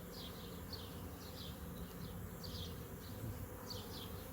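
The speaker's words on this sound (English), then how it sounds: "Just a small handful of bees on the branch, and they're leaving the branch." A honey bee swarm leaving a branch and landing on a box buzzes in a faint, steady outdoor drone, with brief higher whines of individual bees passing at intervals and no voices.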